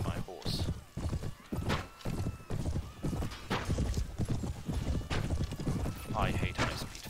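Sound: horse neighing and hooves in Mount & Blade video game

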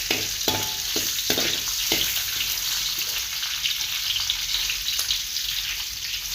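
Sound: onions frying, stirred in a pan

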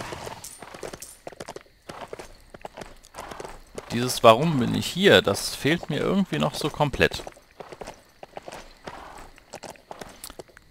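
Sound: horse hooves clip-clopping while riding in the video game Lego Worlds

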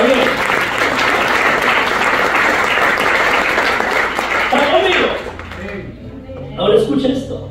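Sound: audience applause

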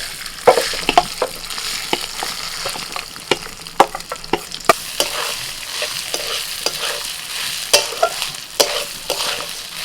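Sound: Gobindobhog rice stirred and fried in ghee with spices

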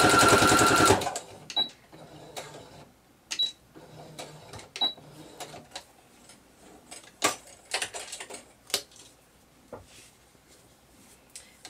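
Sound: sewing machine stitching a single fold hem

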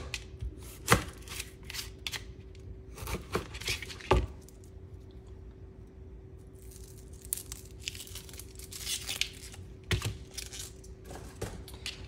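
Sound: knife cutting onion

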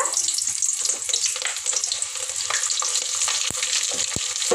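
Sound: onion frying in hot oil for sambar

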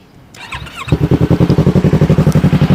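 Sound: sport motorcycle engine running

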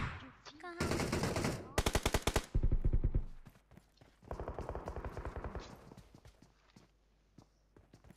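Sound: shotgun gunfire in PUBG Mobile video game

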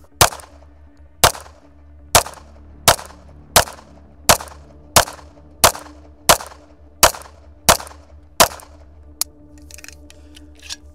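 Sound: gunshots from an Atlas EOS pistol emptying a magazine

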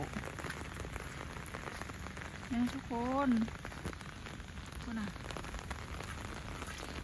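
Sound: light rain falling

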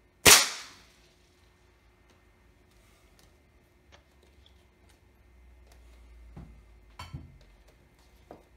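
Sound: air rifle shot hitting a computer

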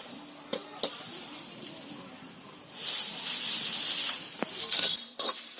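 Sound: dry roasting whole spices (fennel, coriander, cumin, chillies) in pan

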